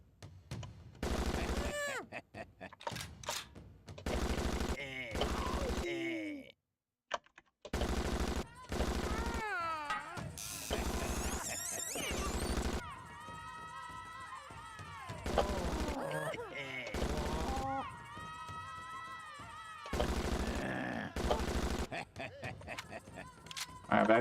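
Repeated loud gunshot bursts at a shooting range, blocks of firing separated by short gaps, with people talking between and over the shots.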